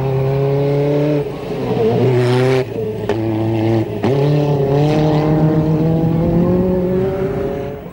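A Peugeot 405 rally car racing through the desert in the 1988 Paris-Dakar Rally, its engine droning loudly and steadily close by, with a few quick gear changes that shift the pitch.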